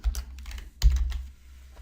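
Quick bursts of keystrokes on a computer keyboard, a cluster of light clicks followed by a sharper thump and a few more taps, close and clear with no talk.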